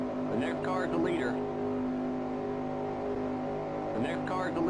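Steady roar of a race car engine at the 1965 Permatex 300, a sustained harmonic drone under short crackling radio voice transmissions at the beginning and near the end.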